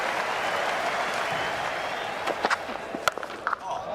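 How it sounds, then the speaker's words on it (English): A cricket crowd at Trent Bridge applauds during an England vs Australia one-day international, a steady, distant wash of clapping with a few sharper claps standing out near the end. "Warm applause."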